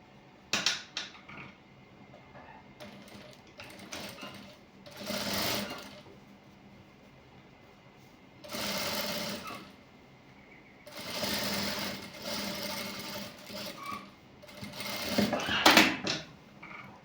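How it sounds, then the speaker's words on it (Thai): A sewing machine topstitches the opening of a bag, pressing down a white section, running in about five separate bursts of stitching with quiet pauses between them and no talking. "อันนี้คือปากกระเป๋า แล้วก็เดินเส้นเย็บกดค่ะ"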